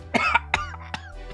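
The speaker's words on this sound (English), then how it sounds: "that wasn't a fake cough" A man gives several harsh coughs in quick succession, loud and close, with a low steady hum underneath and a final softer cough trailing off.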